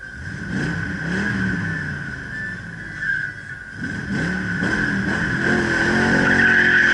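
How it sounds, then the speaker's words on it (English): A Mustang Cobra spins its rear tires at a drag strip to warm them, a loud sustained engine roar with a steady high tire squeal that builds toward the end. "I'm gonna warm up the tires a little bit so they stick, the rear tires"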